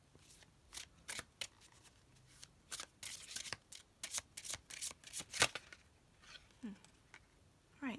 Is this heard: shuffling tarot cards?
yes